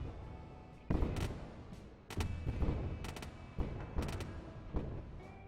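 Spaceship guns firing in the space game Wayward Terran Frontier: Zero Falls, a rapid series of sharp cracking blasts in irregular bursts over a low background hum, with no voices.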